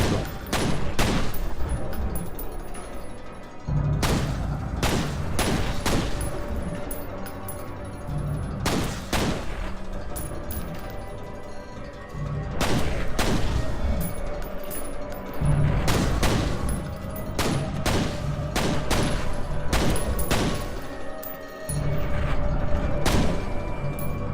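Gunfire in the shooter game F.E.A.R., loud bursts of automatic fire and single shots in repeated volleys with mechanical clanks between them, a voice faintly heard at times.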